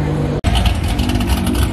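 A Nissan GT-R sports car's engine roars loud and close at a cars-and-coffee meet, with a brief cut and then a sustained rev.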